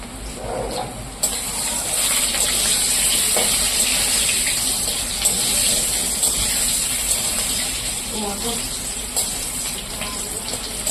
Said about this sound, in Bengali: আমি আলুটা দিয়ে দিয়েছি ভাজার জন্য বসিয়ে